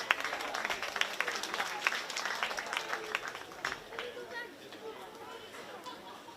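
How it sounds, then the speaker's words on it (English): Applause and crowd chatter in a show barn at the Shelby County Fair 4-H swine show, a fairly steady patter of clapping with murmuring voices mixed in, easing off toward the end. "Hey, you've been great on the rounds of applause all day."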